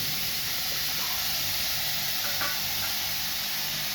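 Onion and whole green chillies frying in hot oil, giving a steady, close sizzle and hiss that stays even throughout with no talking.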